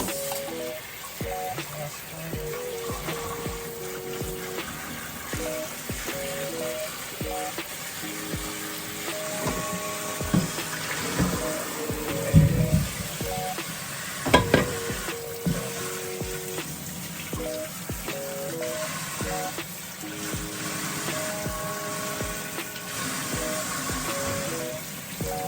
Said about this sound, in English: Now we're just gonna rinse them off.